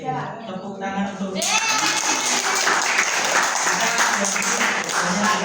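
A classroom audience breaks into sustained applause, steady and fairly loud, after a teacher's spoken lead-in.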